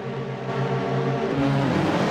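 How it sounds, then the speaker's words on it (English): Several race car engines hold steady revs on a starting grid before the start, a droning multi-engine hum with layered tones that builds and shifts in pitch toward the end, heard close and continuous. "Lights go on, revs begin to build."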